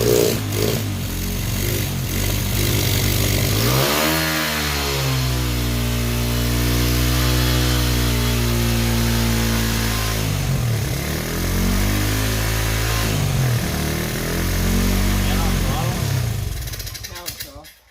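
A 1996 Honda XR100R dirt bike engine, newly fitted with a carburetor and run on choke, revs up sharply, holds a steady throbbing run with rising and falling throttle sweeps, then cuts off at the end, loud and close.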